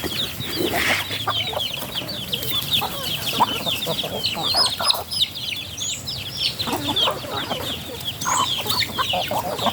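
Chickens, including growing chicks, cluck and chatter continuously in a busy flock, with overlapping calls close by and a steady farmyard background.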